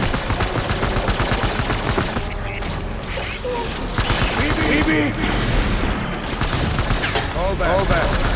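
Heavy gunfire from the Death Stranding Director's Cut video game rattles in rapid, sustained bursts with booming impacts, while voices shout over the battle.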